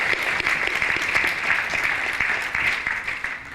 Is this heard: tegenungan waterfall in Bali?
no